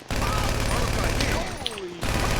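Gunfire in GTA 5 during a modded mission, a loud sustained volley of rapid shots with a brief lull before another burst resumes, heard without clear talk over it.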